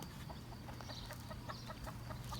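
Chickens cluck softly on a farm, a run of short, repeated clucks at a moderate distance over a steady low background hum, with no talk.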